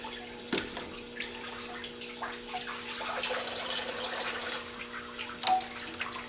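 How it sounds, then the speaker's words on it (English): Coolant trickles and drips from a Mercedes 300D auxiliary heat pump in a soft, steady wet patter, with a steady hum underneath and a couple of sharper splashes. "Still draining a little bit there"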